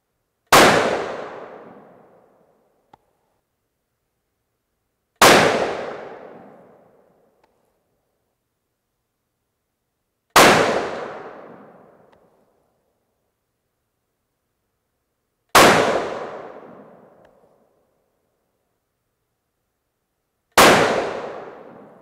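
A Remington 700 rifle fires five loud, sharp shots about five seconds apart, each with a long decaying echo, loaded with 41.5 grains of Reloader 16 behind 90-grain Sierra Game Changer bullets, and no voices between them.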